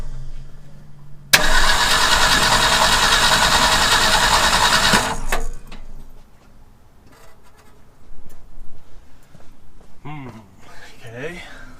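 A 1966 Ford F250 truck engine, freshly tuned up, cranks and catches in a loud burst, runs for several seconds, then cuts back to quieter sounds with a few brief voiced noises near the end.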